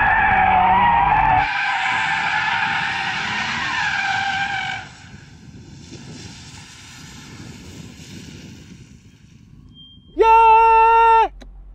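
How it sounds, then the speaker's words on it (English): An Audi RS3 drifts with loud, close tyre squeal for several seconds, then settles into a quieter engine and road rumble. A short, sharp tonal burst comes near the end. "I'm in an Audi RS3, dum dum, and I'm trying to drift it carefully"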